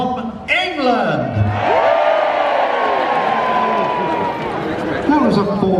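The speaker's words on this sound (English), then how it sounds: "That was a formidable cheer" A big outdoor audience at the Edinburgh Military Tattoo gives a loud, sustained cheer and whoops, swelling after a brief lull and holding strong, with shouted voices rising above the roar.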